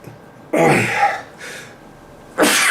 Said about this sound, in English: I couldn't restrain myself with the sneezing